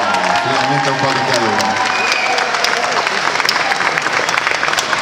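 Applause from an audience at a Modena Nerd 2022 convention panel, steady and dense clapping with a faint voice woven in at the start, filling the full five seconds.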